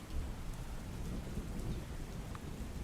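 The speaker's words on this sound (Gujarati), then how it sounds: "જે રીતે ભારે વરસાદ વરસી રહ્યો છે" Heavy rain pours steadily in Botad, Gujarat, with a deep rumbling undertone of thunder, a dense continuous wash of sound without any voices.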